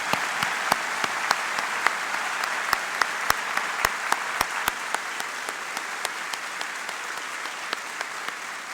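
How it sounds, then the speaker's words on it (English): Graduation audience at a Catholic high school applauding fifteen students; dense, steady applause with sharp individual claps popping out, sustained without a break and little talk over it. "Let's recognize and applaud and congratulate these 15."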